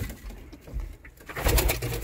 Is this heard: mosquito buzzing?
no